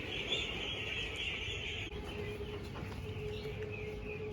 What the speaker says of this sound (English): Another breeds of hens.